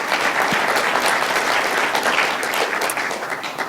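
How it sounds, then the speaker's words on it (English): An audience at a Montana tech jobs summit claps steadily, a dense wash of applause that stays strong throughout and thins slightly at the end. "That's worth applause."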